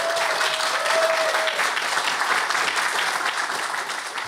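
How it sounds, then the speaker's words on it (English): Live studio audience applauding guests at a talk event, a steady wash of clapping sustained throughout at close range. "Can we get a round of applause for them, please?"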